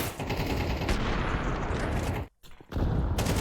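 Rapid gunfire in a professional Counter-Strike esports match between NaVi and Complexity, dense continuous shots that drop out briefly before resuming loud and busy.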